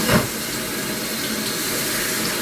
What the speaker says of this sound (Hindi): अब हम इसमें डालेंगे तकरीबन 5 कप पानी डालेंगे।